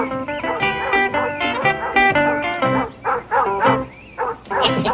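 A hound dog barks and yips in a rapid run of bright, close, tonal bursts with short gaps between them, loud and alone with no talk.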